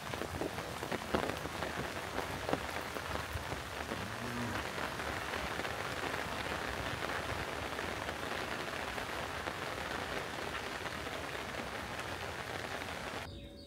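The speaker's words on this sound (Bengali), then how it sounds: "বাইরে বৃষ্টি হইতেছে" Steady rain falls outdoors on a rooftop garden, a dense continuous hiss of drops on surfaces that stays even and close from start to finish with no voices.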